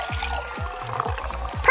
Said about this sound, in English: I'll just pour another drink.